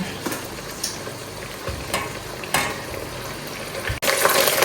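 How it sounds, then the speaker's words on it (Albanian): Okra fries in oil in a pot on the stove, a constant close sizzle broken every second or so by scraping stir strokes, with a louder clatter near the end. "Mbajmë bamjet në zjarr, i trazojmë herë pas here"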